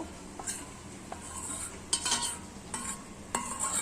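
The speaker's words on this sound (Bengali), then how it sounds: "আমি ডিমগুলো ঢেলে দিচ্ছি দুধের সাথে মিক্স করবো" Eggs are whisked with milk and sugar in a bowl, a utensil clinking and scraping against the sides in short, uneven bursts, close and fairly quiet.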